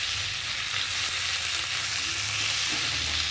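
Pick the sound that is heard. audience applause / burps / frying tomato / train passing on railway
frying tomato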